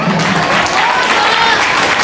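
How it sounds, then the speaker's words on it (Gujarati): Audience at a school prize-giving ceremony applauds a Standard 1 first-rank student, a steady, dense wash of clapping holding at full strength for the whole stretch with no voices over it. "તાળીઓનો ગડગડાટ સતત ચાલવો જોઈએ"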